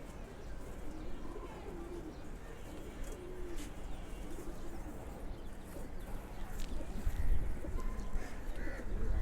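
Silver pigeons coo in a loft alongside young squabs, a soft low murmur running steadily under a dense, noisy background that grows louder toward the end.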